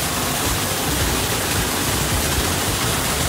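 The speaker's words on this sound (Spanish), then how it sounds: "La otra parte del río que tenemos de este lado, nuestra cascada" A natural waterfall on a river beside a house plunges steadily, a loud, continuous broadband roar of rushing water with no pauses and no voices over it.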